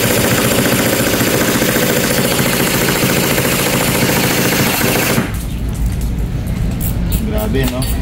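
A gas-blowback style airsoft rifle, a Madbull Gemtech build, firing on full auto in a long rapid, steady rattle of shots, loud and close, then tapering into separate bursts and clicks.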